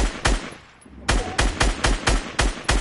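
Gunfire in a Fortnite match: one loud shot, a short pause, then a steady run of about seven evenly spaced heavy shots fired close by.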